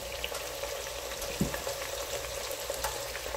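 Onion and green chillies frying in a pan for beef liver with chana dal, a steady soft sizzle with one knock of a spoon midway, no voices.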